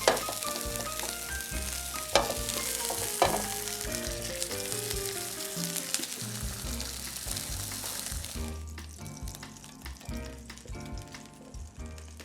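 Turkey browning in a hot pan, loud steady sizzling and frying with occasional stirring clatter, the sizzle thinning toward the end over faint background music.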